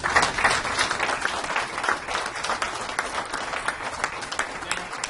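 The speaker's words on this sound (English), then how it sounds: "give them a round of applause" A roomful of people at a business presentation breaks into sustained applause, dense steady clapping that holds at an even level throughout with no speech over it.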